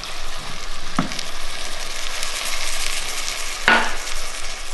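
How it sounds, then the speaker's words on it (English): Clam juice hits a hot pan while making clam chowder, giving a steady, close hissing sizzle throughout with a couple of brief clinks of a stirring utensil. "first I add the clam juice and it'll deglaze the pan"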